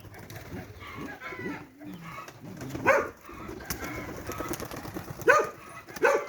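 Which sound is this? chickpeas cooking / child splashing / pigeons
pigeons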